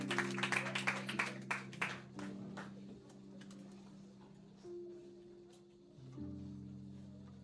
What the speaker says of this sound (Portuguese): Aplauda ao Senhor nesta noite